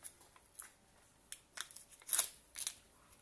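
Petit-suisse cheese pots being peeled open by hand into a bowl, a few faint crinkly foil and plastic snaps and tears, brief and quiet, with one sharper crackling tear near the middle.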